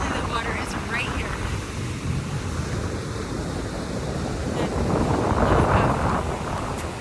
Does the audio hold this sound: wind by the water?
yes